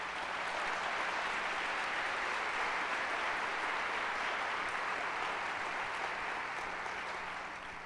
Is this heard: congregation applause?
yes